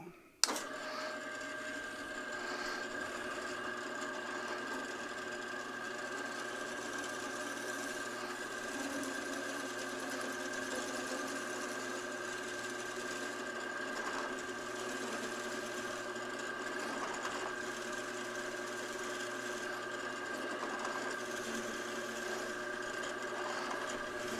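An auger drill bit bores at 510 rpm, a steady humming whine that holds evenly for the whole stretch after a sharp start, moderately quiet and close with no talk over it.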